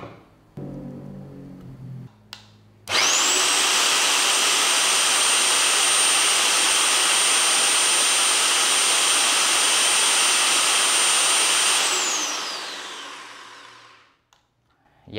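An INGCO RH18008 rotary hammer runs in non-impact mode for an RPM test: after a few clicks it spins up sharply into a loud, steady high whine that holds for about nine seconds, then winds down and stops.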